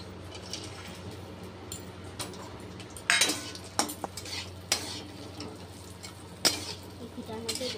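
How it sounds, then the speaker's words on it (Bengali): Raisins and cashews frying in ghee and being stirred: a soft, low sizzle broken by several sharp clinks and scrapes of a metal spoon against the pan, with faint voices in the background. "এই ঘিটার মধ্যে এগুলোকে ভালো করে ভেজে নেবো"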